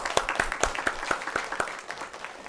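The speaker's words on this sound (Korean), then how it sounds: "크게 박수로 환영하겠습니다" A church congregation at a Sunday morning service claps in welcome, a steady run of sharp hand claps that thins out toward the end, with no talking.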